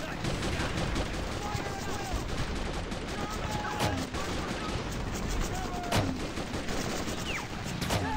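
Sustained gunfire and bursts of rifle and machine-gun shots in the World War II strategy game Men of War: Assault Squad 2, with mortar fire, crackling dense and loud throughout, plus scattered whistling projectiles and sharp impacts.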